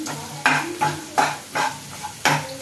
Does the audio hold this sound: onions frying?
yes